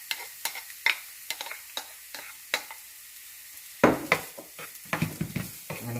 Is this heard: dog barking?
no